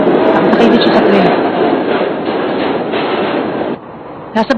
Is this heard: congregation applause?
no